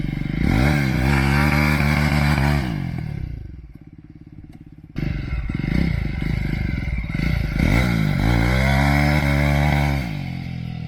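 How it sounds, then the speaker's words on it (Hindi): A Jawa 42 2.1 motorcycle engine revs hard, drops to a rough idle, then revs up again in loud repeated bursts, close and mechanical. "जितना रेव करोगे उतना रिस्पांस दिखता है इंजन पर"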